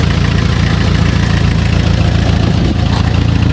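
An engine runs loudly and steadily at close range, a dense, rough mechanical roar with a rapid rhythmic knocking pulse throughout and no talking.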